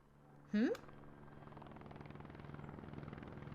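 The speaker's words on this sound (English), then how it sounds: "A helicopter!" Helicopter sound effect from the video game Band Camp Boyfriend: a steady rotor chop thumps rhythmically and grows slightly louder, with a short burst of voice near the start.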